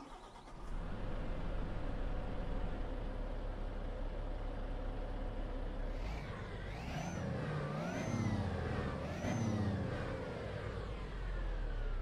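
A Volvo FH16 540 truck in Euro Truck Simulator 2 starts up and settles into a steady diesel idle, then the engine revs up sharply three times before dropping back.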